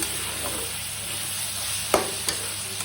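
Mutton fries in oil in a pan after its water has cooked off, giving a steady close sizzle with a couple of brief clinks from stirring.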